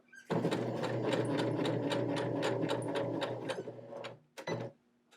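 A sewing machine stitches a small fabric hexagon keychain, running in one steady, rapid mechanical whir for about four seconds, then a short final burst of stitches, close and clear.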